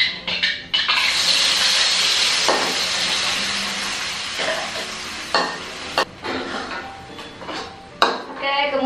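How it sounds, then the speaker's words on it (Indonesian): Ground spice paste dropped into hot frying oil in a pan, a loud, steady sizzle close up that flares and settles, broken by scrapes and clinks of a utensil stirring against the pan. "Ini minyaknya udah panas. Wow. Sekarang aku mau masukin bumbu halusnya."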